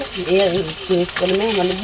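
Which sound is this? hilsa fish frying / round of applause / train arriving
hilsa fish frying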